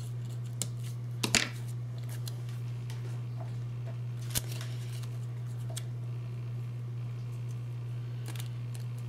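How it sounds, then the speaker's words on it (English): Scissors snip thread while sewing zigzag and straight stitches on artist trading cards; two or three sharp, brief cuts stand out over a steady low electrical hum in a quiet room. "I need to cut off that thread"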